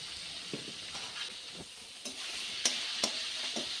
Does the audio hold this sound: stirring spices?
yes